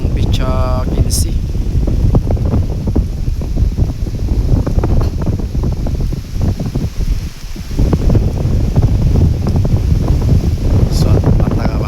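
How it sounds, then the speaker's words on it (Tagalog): Strong southwest monsoon wind sweeps across the sea beside a fishing boat. It makes a loud, constant roar and buffets the microphone in rough gusts for about twelve seconds. "Napakalakas na habagat."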